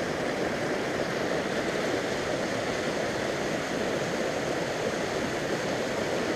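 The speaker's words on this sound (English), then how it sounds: "We actually found a waterfall coming down the mountain." Mountain waterfall cascading down a slope near a lake trail, a steady, dense roar of falling water filling the whole clip without pause, close and loud, with no voices.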